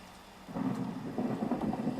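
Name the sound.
thunderstorm with rain and lightning in video game Minecraft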